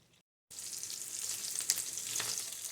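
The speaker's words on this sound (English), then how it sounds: "I just want them to be a little bit brown. I'm not trying to cook them all the way through" Chunks of beef stew meat brown in a hot pan with a steady, close sizzle and faint crackle that starts abruptly after a short silence and carries on evenly, with no talking.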